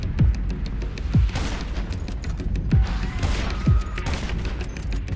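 Sniper rifle shots fired at a jet in GTA 5: four loud, booming reports land about a second apart, each ending in a deep dropping rumble over steady background game noise.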